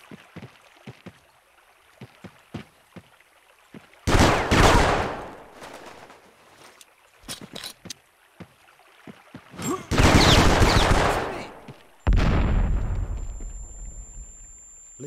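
Bursts of automatic machine gun fire from the Vietnam War shooter Vietcong: Fist Alpha, three loud volleys at intervals with quieter clicks and gear sounds between them.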